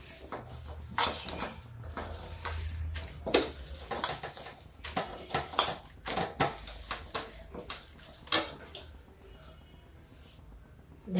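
Water is stirred into kadhi gravy in a cooking pot, with repeated clinks and scrapes of a spoon against the metal and soft sloshing, irregular and close, over a low steady background hum.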